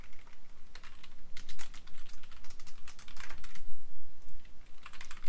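Rapid bursts of clicking keystrokes on a computer keyboard as Unity code is typed, irregular clusters of taps separated by short pauses, close and moderately quiet with no speech.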